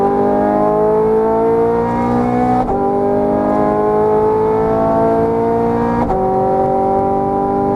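Ferrari 430 Scuderia V8 on a racetrack, engine pulling hard under throttle with rising harmonic pitch through the gears, two sharp upshift breaks, loud and close throughout with no talk.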